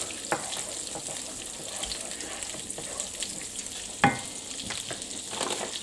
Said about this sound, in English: I'm going to throw some butter. I'm going to let that cook off a little bit.